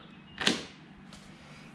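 A newly installed front door with a deadbolt swings shut in one quick, close thump-and-click, followed by a faint second click and quiet room tone.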